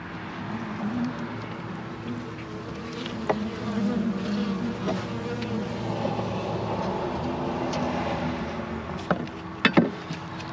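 Honeybees in a top bar hive during a comb inspection, producing a steady, moderately quiet drone of buzzing with occasional louder individual bees passing close and a few brief knocks near the end.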